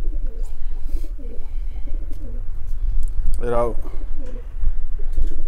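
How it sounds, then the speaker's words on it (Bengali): Pet pigeons bathing in a fresh water dish coo in soft, repeated low throaty rolls close by, with a louder burst of cooing in the middle, while a person talks over them. "আমার কবুতরগুলো পানি দেওয়ার সাথে সাথেই গোসল করতে চলে এসেছে।"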